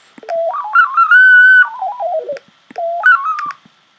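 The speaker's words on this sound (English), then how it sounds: "Sine wave." Pure sine-wave synth tone from Chrome Music Lab, pitch glided by dragging a finger: a smooth, whistle-like sweep rising, holding, then falling, followed by a shorter second sweep, clear and close.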